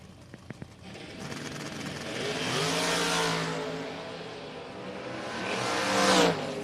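A Chevrolet S10 drag race car launches down the left lane at a drag strip. A couple of sharp clicks come first, then a loud, rising engine roar that swells, eases, and surges again as it pulls away.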